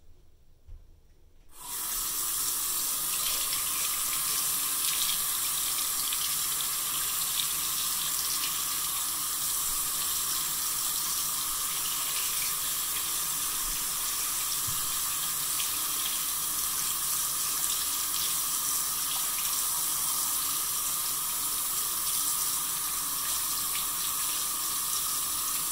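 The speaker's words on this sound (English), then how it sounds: "the water is noisy, so I'm not gonna talk while I clean the comb" Cold tap water runs steadily into a sink while a comb is rinsed under the stream, a loud constant rush that starts after a second of near silence and continues alone with no talk.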